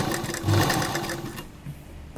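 A sewing machine runs close and loud as it stitches along a folded fabric edge, whirring briefly and then slowing as the needle comes to a stop, with no talking.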